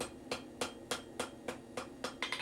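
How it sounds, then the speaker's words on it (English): A blacksmith's hammer strikes hot metal on an anvil while forging a decorative twist, about eight sharp, evenly spaced ringing blows at a steady rhythm, close and fairly quiet, with no talking. "these hammer blows are actually coming downwards"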